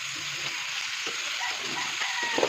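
Pickle (achar) ingredients with turmeric and salt sizzle steadily in a hot pan, a constant bright frying hiss with soft scraping of stirring underneath.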